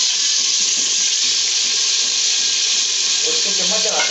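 Mutton pieces frying in hot oil in a pot for palak gosht, giving a steady, loud broadband sizzle that runs throughout with no pauses, with a faint lower stirring or bubbling texture near the end.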